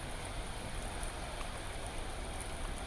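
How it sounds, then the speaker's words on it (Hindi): Heavy rain falls in a dense, even hiss that does not let up, with a close, wash-like texture and no voices. "रवाली में तेज आंधी के साथ झमाझम बरसात"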